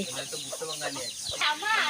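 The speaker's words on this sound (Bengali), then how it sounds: "এই দেখো মোরগ মুরগি লড়াই চলছে" Roosters and hens fighting among the farm chickens give short squawks and clucks up close, with a sharper burst near the end and a voice talking over them.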